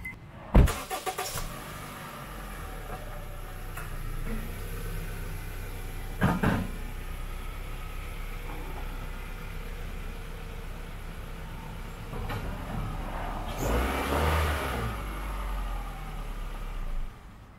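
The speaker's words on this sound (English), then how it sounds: "I can start the car, back it off of the ramps, and check the fluid level." A 2007 Honda Fit being started after an oil change: a door thump and sharp clicks, then the engine turns over and settles into a low steady idle, with another clunk and a brief revving swell near the end.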